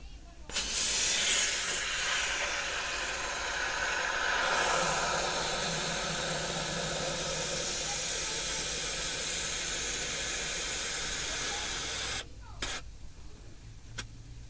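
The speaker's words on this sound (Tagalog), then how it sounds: "isprayan ko na yan mga paps, pati yung kabilang side dito" Aerosol air-conditioning cleaner sprayed into a car's air conditioner: a loud, continuous hissing spray lasting about twelve seconds, close and steady, then cutting off abruptly to near quiet with a few faint clicks.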